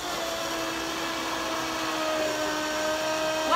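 A blender whirs steadily at high speed blending a detox juice with avocado, a constant motor whine with no talking.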